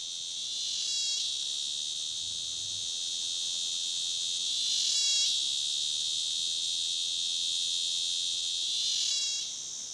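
A cicada in a hot, dry, prickly forest keeps up a continuous high buzzing drone that swells in three pulsing bursts. It is heard alone and at moderate distance, with no voices.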